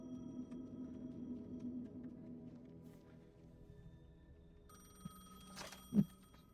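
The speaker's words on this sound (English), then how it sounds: "The payphone was ringing." A payphone rings in the video game Alan Wake 2, a faint electronic ring against quiet ambience, followed near the end by a short, louder bell burst and a soft thump.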